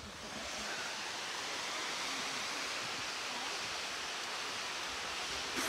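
A mountain waterfall reached on a summer hike with rocky steep trails, heard as a steady broad roar of rushing water, faint and even throughout, with no voices.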